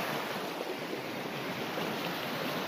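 River water rushing and churning around boulders midstream, a steady close broadband wash that fills the whole stretch with no pauses and no voices.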